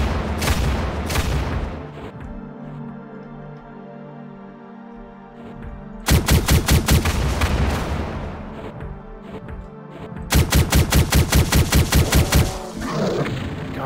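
Rapid bursts of heavy gunfire from a powerful weapon in the shooter Astral Abstraction, loud and close, firing in two sustained rhythmic volleys separated by quieter ambient game sound, with no talking.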